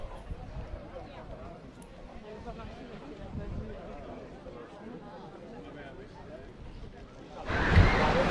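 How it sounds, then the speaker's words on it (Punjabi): Sea waves washing onto the shore at Étretat beach in France, with strong wind buffeting the microphone; someone talks over the soft surf, and a loud gust or wave swells near the end. "ਮੈਂ ਹਾਂ ਇਸ ਟਾਈਮ ਇੱਕ ਖਾਸ ਸਮੁੰਦਰ ਦੇ ਲਾਗੇ ਸਮੁੰਦਰ ਦੇ ਕਿਨਾਰੇ"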